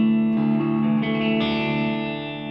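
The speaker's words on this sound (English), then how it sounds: "with a heavy distorted tone, because this is quite heavily distorted" Heavily distorted electric guitar chords ring out, shifting up in steps with a thick, buzzing sustain that slowly fades.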